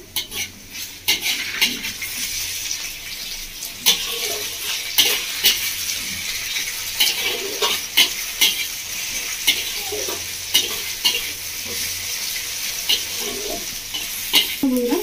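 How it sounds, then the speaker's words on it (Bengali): Onion and tomato frying in a pan, the oil sizzling constantly under repeated scraping stirs of a spatula against the metal, close up with no talk. "টমেটো আর পেঁয়াজটা খুব ভালো করে ভেজে নিয়েছি"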